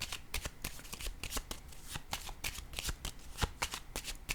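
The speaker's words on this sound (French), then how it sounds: "Attendez, je vais piger une carte." Playing cards being shuffled and drawn in a steady stream of quick riffling flicks and snaps, close and busy throughout with no speech over it.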